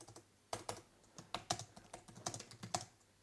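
Typing on a Logitech MX Keys for Mac keyboard used with a MacBook Pro, a run of quiet, close keystrokes clicking at an uneven pace with short bursts and pauses.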